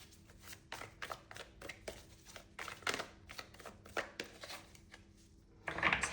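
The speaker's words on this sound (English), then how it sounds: "it's asking me to continue to shuffle." Tarot cards being shuffled by hand, a run of quick riffling bursts in an uneven rhythm, close and crisp, with a louder flurry at the end and no talk.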